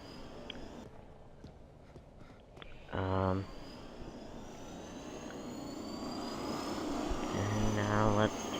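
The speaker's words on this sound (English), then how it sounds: "take off in the helicopter." A helicopter lifting off in the stealth video game Monaco, with a short rhythmic rotor chop that fades, then returns with a rising engine whine and a swelling whoosh.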